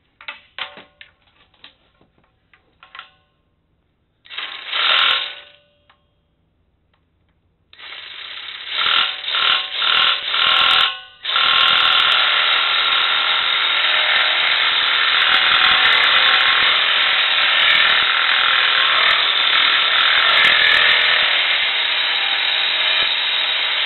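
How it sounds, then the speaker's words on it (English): A reciprocating saw cuts through a metal rail, starting with short bursts and rattling starts before settling into a loud, continuous, buzzing cut that runs steadily for over ten seconds. "that's where I'm going to go ahead and sawzall this off"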